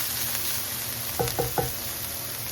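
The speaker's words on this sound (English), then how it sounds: "here I am adding cabbage to the carrots that have been already browned" Shredded cabbage sizzles loudly in a pan with browned carrots, a constant close frying hiss broken by three quick stirring clinks.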